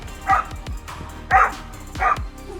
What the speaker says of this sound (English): we did find an owner and his dog brave enough to stand their ground and bark down a cougar